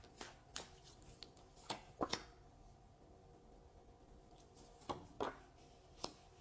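Tarot cards being shuffled and handled, faint and close, with soft riffles and light taps coming in small clusters between quiet stretches.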